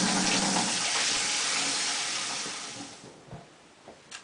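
Cold tap water gushes steadily from a faucet in a northern Ontario home in winter, a loud continuous rush that tapers off into quieter trickles and drips near the end.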